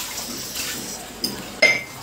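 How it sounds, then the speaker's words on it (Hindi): Dishes, pots and utensils being washed under a running tap, with soft water hiss, a light clink and then a sharper metallic clatter of dishware, heard at moderate distance. "बर्तन धो रही है"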